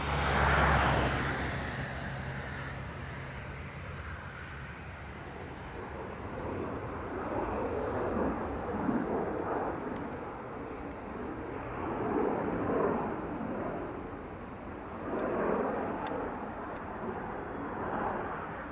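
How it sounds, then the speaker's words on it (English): An Airbus A330 taxiing at Dublin Airport, a low broad engine rumble and whine that swells and fades over time, heard at a distance in open air. "We have an A330 on taxi."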